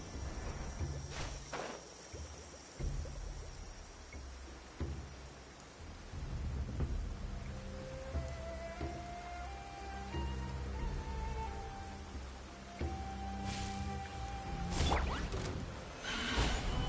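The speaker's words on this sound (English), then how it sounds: "If this rain keeps up" Rain and rumbling thunder in the video game Genshin Impact, a quiet, steady patter with low rolls and a few soft footstep-like thumps underneath.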